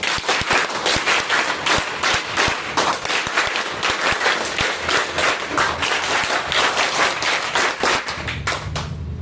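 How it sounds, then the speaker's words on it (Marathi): A group of schoolchildren claps together, loud rhythmic rounds of hand claps in a patterned sequence with brief pauses, close and filling the room. "पुन्हा एकदा दादासाठी 3 स्टेप मध्ये टाळ्या वाजवा"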